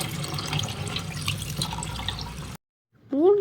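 Stingray fish being rinsed and washed in water, with steady splashing and trickling close by for over two seconds, then a short silence and a brief voice.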